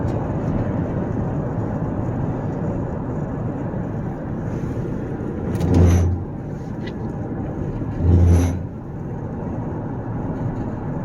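Steady road and engine drone inside a 2016 AWD Ford Police Interceptor Explorer with a twin-turbo 3.5L EcoBoost cruising on a rutted highway, with two brief louder swells as thumps or passing rumbles break the constant hum.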